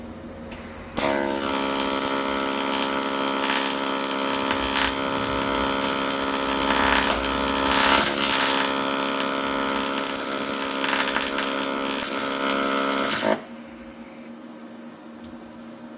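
A YesWelder DP200 multi-process welder lays a bead for about twelve seconds, a loud, steady buzzing crackle that starts and stops abruptly, with quiet room sound before and after.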